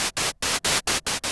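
White noise from the mixer of a Moog Grandmother synthesizer: loud, steady hiss switched on and off in about six close bursts separated by brief silences.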